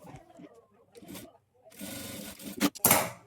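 A sewing machine stitches a folded hem on a petticoat made from an old panche cloth, running in a rapid close burst of whirring and clatter after a stretch of quiet speech.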